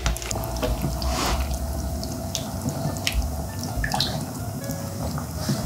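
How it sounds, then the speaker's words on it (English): Black-eyed peas coming up to a simmer in a pot on the stove, giving soft irregular bubbling and dripping, liquid sounds that continue steadily at close range without any voices. "And now we're gonna get these to a simmer."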